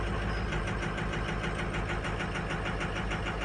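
Vehicle engine idling after a cold start with the radiator petcock open, a steady close mechanical rumble with even pulsing knock throughout.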